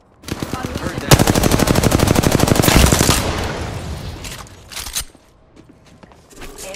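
Rapid automatic gunfire from the video game Apex Legends, a dense loud burst of shots lasting a few seconds, then a trailing rattle and scattered quieter shots with game sounds.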